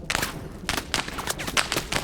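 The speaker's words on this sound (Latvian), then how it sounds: "Paman šāviens snipers." Sniper gunfire in the military shooter ArmA 3, a string of sharp, loud cracking shots coming in irregular bursts over a short stretch, with no talk.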